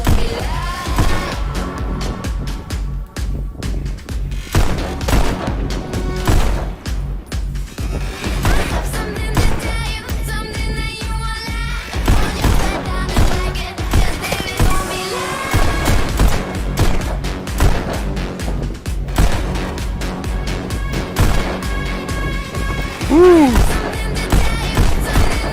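Rapid gunfire in the VR game Pistol Whip, with sharp shots popping in quick bursts over a continuous beat-driven backdrop throughout.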